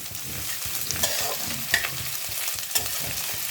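Green chili, ginger paste and garlic paste hit hot oil with softened onion, giving a steady close sizzle with rhythmic scraping strokes of a spoon stirring through the pan.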